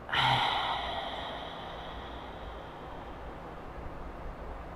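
Deep exhale through the mouth during a beginner yoga session, one long breathy whoosh that starts strong and fades into a quiet room.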